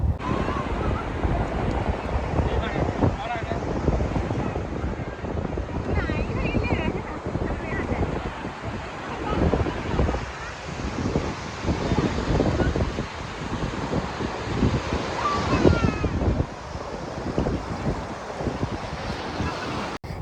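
Ocean waves and wind at a beach in Goa, a continuous rough rush of surf with gusts buffeting the microphone, steady and fairly loud throughout with no voices.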